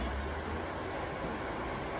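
A Bombardier EMU local train rumbles at Vidyavihar station, a steady loud rolling roar with no breaks, heard close from the platform.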